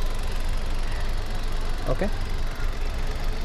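New car engine idling steadily during a pre-delivery inspection, a constant close low rumble with a faint belt whir, while someone briefly speaks over it.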